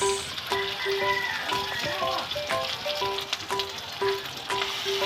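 Grated coconut pulp coated in curry powder sizzles steadily in a pan, a dense continuous frying hiss with scattered crackles and light stirring rattles, close and fairly loud with no talking.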